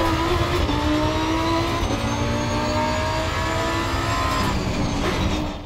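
A naturally aspirated V10 race car in Assetto Corsa Competizione screams at high revs, its loud, sustained engine note climbing and holding with gear changes and no talk.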